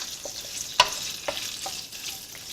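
Bits of fat rendering into lard in a pan over a small fire for Malaysian mee siam, giving a steady close sizzle with a few sharp crackles and pops.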